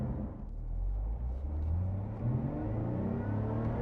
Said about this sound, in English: Great exhaust note.